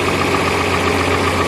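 Tractor engine pulling in its lowest reverse gear while clearing out a big baler, a steady close, loud mechanical drone with a constant low throb and no breaks.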